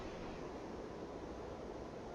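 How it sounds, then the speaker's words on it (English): Outdoor wind blows in the video game The Vanishing of Ethan Carter, a steady, broad rushing noise at constant loudness with no other sounds. "It's pretty windy out here."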